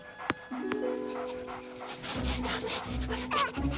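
Cartoon dogs at a dog park pant in quick, steady breaths, close and fairly loud, with a short squeak and rubbing noises early on and a busier, rumbling layer of play sounds in the second half.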